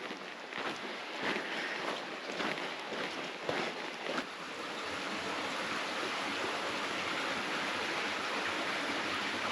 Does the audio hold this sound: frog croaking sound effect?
no